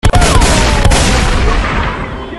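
Gunfire in GTA San Andreas: a loud burst of close shots and booms at the start, then a dense, rumbling fusillade that slowly fades, with no voices.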